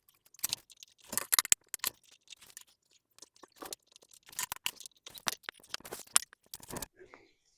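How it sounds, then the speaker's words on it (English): Insulation for a rotten caravan floor is cut by hand in short, irregular bursts of crisp snipping and tearing, close and fairly quiet, separated by brief pauses. "cut the insulation, and then put this top on, screw it in"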